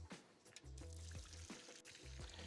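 Water poured into a foldable dog bowl outdoors on a walk in Sitges, Spain; a faint, steady trickle with small splashes, quiet and close.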